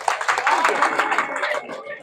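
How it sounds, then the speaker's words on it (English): A student audience at a church youth preaching service applauds, a dense wash of clapping mixed with voices that stays steady for about two seconds before easing off. "give yourself a round of applause"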